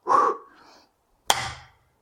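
A hammer delivers a single heavy blow to supposedly unbreakable glass, a sharp loud impact with a brief ringing tail, preceded by an earlier duller knock.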